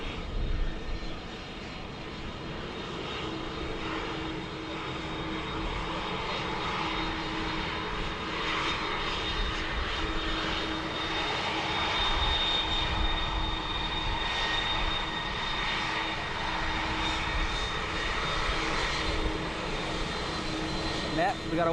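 Airliner engines roaring steadily at Dublin Airport, a continuous loud drone throughout with faint voices underneath.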